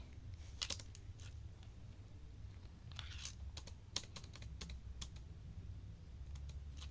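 Keyboard keys pressed in a few quick, sharp clicks for copy and paste shortcuts, sounding close and distinct over a low steady background hum with no talking.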